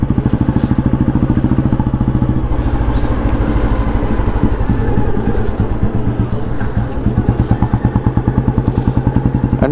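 A motorcycle with a reverse gear pattern rides along a road in Gujarat, its engine chugging loudly and steadily close to the microphone, with a rapid pulsing beat and some rattling clatter throughout.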